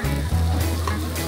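Steady, close sizzling and crackling of food frying on a hot plate at a hawker stall, continuous and fairly loud, with no voices.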